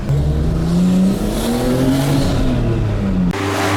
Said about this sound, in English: There's an Audi trying to do some handbrake skids at the moment.